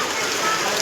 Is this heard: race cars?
no